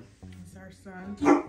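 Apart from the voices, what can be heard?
dog barking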